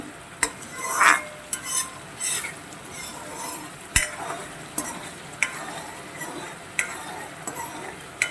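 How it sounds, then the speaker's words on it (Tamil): Thiruvathirai kali being stirred in a pan, with repeated scraping and clinking of a spoon against the metal over a faint background hiss, close and steady, with no talking. "நான் இந்த மாதிரி ஸ்டைலில் தாங்க திருவாதிரை களி கிண்டுவேன்."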